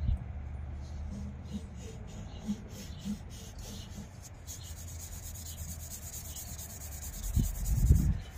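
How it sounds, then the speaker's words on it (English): Sandpaper works over a spinning wood-turned piece, giving a continuous close rubbing hiss with a few soft knocks and a louder scuffing burst toward the end. "let me do some sanding"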